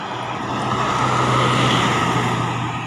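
A double-decker bus passes at steady road level, a continuous broad engine and tire roar with a low hum, loud and close throughout with no voices.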